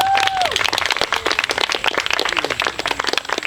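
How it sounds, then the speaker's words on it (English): An outdoor crowd at a trail gathering applauds musicians, a dense patter of many hands clapping at moderate distance, with a brief voice at the start. "Please, a round of applause for our musicians."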